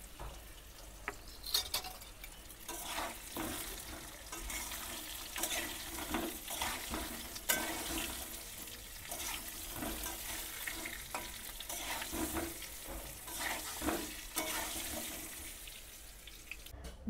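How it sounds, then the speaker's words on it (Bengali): Potato pieces dusted with turmeric fry in a pan of oil for chicken biryani, giving a steady sizzle with scraping stir strokes and occasional louder spurts throughout. "দিয়ে আমি আলুগুলো লাল লাল করে ভেজে তুলে নেব"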